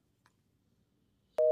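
Telephone busy signal on a hung-up call, a loud steady tone cutting in abruptly after near silence with a faint click before it.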